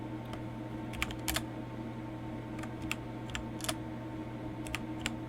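Computer keyboard typing by a player of Empyrion Reforged Eden, with scattered light key clicks, some single and some in quick pairs, over a steady hum of fan noise and no speech.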